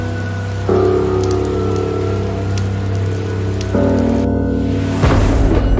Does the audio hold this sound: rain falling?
yes